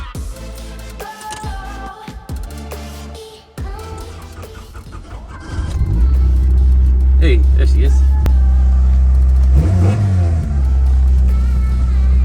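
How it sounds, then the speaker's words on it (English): A 1989 Honda CRX race car engine cranks and catches on a cold start, then settles into a loud, steady rumbling idle with a few revs, while a person speaks briefly at the start. "Let's see how this cold start does."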